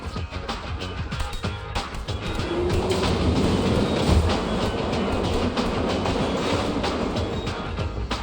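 Train rolling along in the TMNT Mutants Unleashed video game, a steady loud rumble with rhythmic rattling and clattering that swells midway, accompanied by game music or effects.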